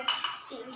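A spoon clinks twice in a cup as sugar is added, two quick, close, bright taps followed by a soft scrape.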